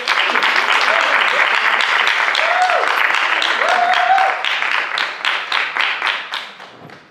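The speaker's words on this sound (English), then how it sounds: "Let's give her a round of applause" An audience claps steadily for a speaker being welcomed to the stage, the dense applause thinning into scattered claps near the end, with a voice speaking briefly over it.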